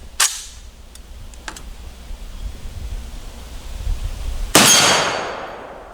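A single sharp gunshot from a 10.5-inch M92 AK pistol chambered in 7.62x39 cracks loudly outdoors, a short pause after a fainter early report and a few light clinks, followed by a long decaying rumble.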